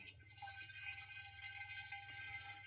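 Cider mixture being poured into a sterilised glass demijohn for a turbo cider brew, a faint steady liquid trickle running unbroken and close by with no voices.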